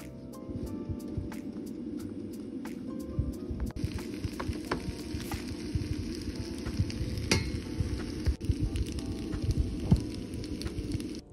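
Chopped onions sizzle steadily in a hot pan for a dandan noodle sauce base, a continuous crackling fry with scattered sharp pops and scrapes, close and fairly loud throughout.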